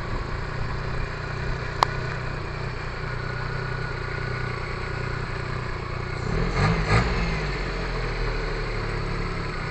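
A Kancil car engine with a newly replaced carburetor idles steadily, a low continuous hum with a brief click early on and a slight swell near the end, no speech.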